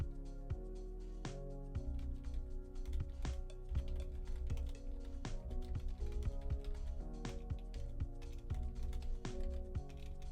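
Rapid typing on a computer keyboard, close and clear, with dense irregular clacks of keys running steadily throughout, and no talk over it.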